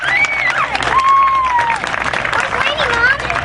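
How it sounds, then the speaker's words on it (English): Audience applauding at a 50th anniversary celebration for Storyland, a sustained round of clapping with cheers and whistles over crowd murmur. "Can we give them and all of those who have participated in the renovation one more round of applause?"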